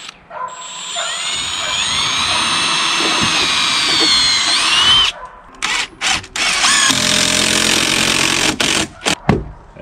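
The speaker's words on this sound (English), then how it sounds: "get my holes drilled and then screw it in" Power drill boring holes and driving screws into stair treads during screen porch and deck construction, a loud steady whine for about five seconds, then several shorter bursts with pauses between.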